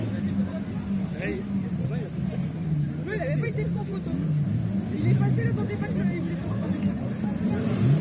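Stock cars roll through a warm-up lap at an August race meeting in Princé, France, their engines rumbling and revving at a moderate distance. Voices talk over the engine noise throughout.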